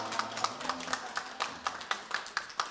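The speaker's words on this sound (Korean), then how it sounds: "우리 축복 감사 박수합시다" A church congregation at a Christmas service claps in a steady, rhythmic unison beat, a run of sharp, fairly soft claps with no talk.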